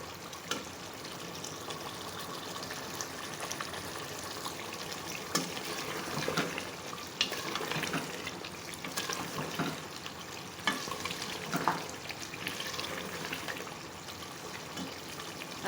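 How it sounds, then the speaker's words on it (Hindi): Mutton gravy masala frying and being stirred in a pan gives a steady sizzle with faint scraping and bubbling, moderately loud and continuous throughout with no talk. "फ़िलहाल हम इसकी भुनाई कर रहे हैं।"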